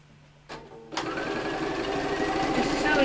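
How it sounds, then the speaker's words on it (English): A sewing machine stitches steadily along a folded fabric edge on a vanity case, its motor whirring continuously after a couple of brief starts, close and fairly loud. "just sewing all the way down, taking my pins out as I go and making sure it stays folded down"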